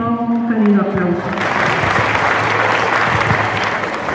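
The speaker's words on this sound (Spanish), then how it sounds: "Para él les pido un cálido aplauso." A crowd at a teachers' forum in Teopisca, Chiapas, Mexico, breaks into warm applause, a dense steady clapping that carries on at an even level, with a few voices murmuring at the start.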